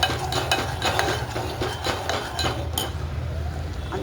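Kasturi methi is stirred into hot oil with curry masala in a kadhai: repeated metallic clinks and scrapes of a spoon against the pan, close and fairly quick, over a faint low background hum.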